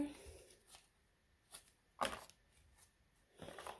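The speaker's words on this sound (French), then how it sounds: "je vais vous tirer une petite carte" An oracle card drawn from a deck gives brief papery shuffles and flicks, with a sharper snap midway and a rustle at the end, fairly close and quiet, with a voice faint in the background.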